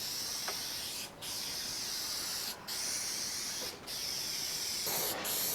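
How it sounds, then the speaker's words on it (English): Continuous close hiss of an aerosol can spraying adhesive onto a car headliner, broken by three or four brief pauses between passes, with no talking. "liberally spray the adhesive."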